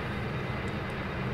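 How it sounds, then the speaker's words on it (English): Turboprop engines of a Dash 8 Q400 run at maximum in the FSX flight simulator, giving a steady, dense broadband drone with no break and no voices. "So maximum, listen to the engines. Now we got that classic Dash 8 sound."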